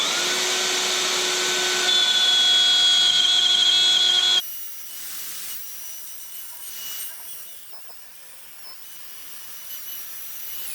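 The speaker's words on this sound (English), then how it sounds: "So I've got a 1/2 inch dovetail bit on the router." A router with a half-inch dovetail bit cuts grooves across the underside of a wooden coffee tabletop, a loud steady whining drone for about four seconds before the motor cuts off, leaving quieter faint handling noise.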